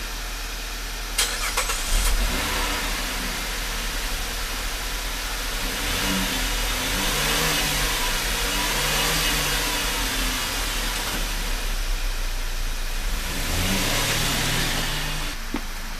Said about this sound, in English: let's do a cold start up on that too